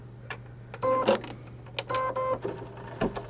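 A machine embroidery unit stitches a St. Patrick's Day pot-o'-gold rainbow design, making close mechanical whirring and buzzing in short uneven bursts with brief pauses, no voices.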